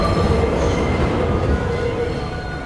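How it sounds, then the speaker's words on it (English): A train in a film scene slowing to a stop, a loud, steady rumble of wheels and carriage noise that fades slightly toward the end, with no talk. "the train is stopping."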